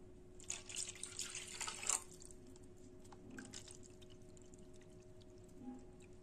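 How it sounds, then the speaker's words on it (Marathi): Water poured from a bowl into curd in a mixing vessel for spiced summer buttermilk, a short splashing pour in the first two seconds, then quiet with faint drips. "आता आपण याच्यामध्ये दही घालून घेऊया आणि ह्याच वाटीने आपण इथे पाणी सुद्धा घालून घेणार आहोत"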